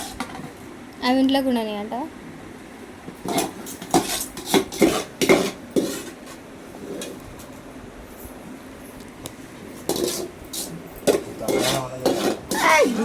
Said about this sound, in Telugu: గ్లాసెస్, ప్లేట్స్, గ్లాసులు తెచ్చుకున్నా.